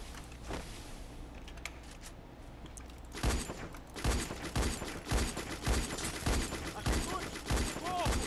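Rapid bursts of gunfire in the video game Free Fire crackle through the clip, growing denser after a quieter start, with faint voices underneath.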